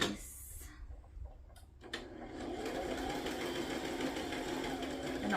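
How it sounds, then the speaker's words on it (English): A sewing machine runs a steady, continuous stitch around the edges of strips of fabric, close and fairly loud after a few quiet handling noises at the start, with no talking. "I'm gonna sew around the edges really quick and probably down the middle"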